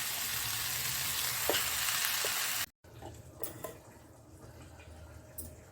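Shark puttu frying on a low gas flame makes a steady hiss and crackle that cuts out briefly and then returns fainter, with light bubbling ticks and no speech.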